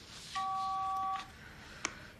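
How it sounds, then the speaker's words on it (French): A mobile phone is dialed, giving one steady dual-tone keypad beep that lasts nearly a second, followed by a brief click, close and clear in a quiet room. "pourquoi tu l'appelles pas de mon portable?"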